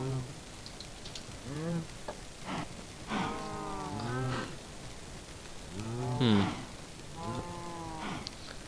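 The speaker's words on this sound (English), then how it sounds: "We can see lots of cows there" Cows moo repeatedly in the Minecraft video game, several short drawn-out lowing calls spaced a second or two apart, moderately loud against a quiet background.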